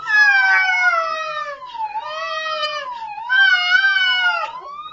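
A voice imitates a siren, sliding pitch up and down in long wailing sweeps, loud and close, in three repeated rises.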